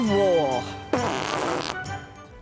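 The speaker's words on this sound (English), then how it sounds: "Oh, fart noises." Comic fart noises from Heroes of Might and Magic 5, a run of rising, wobbly blats: a long pitched squeal followed by a louder burst with a raspy, sputtering tail, all close and loud.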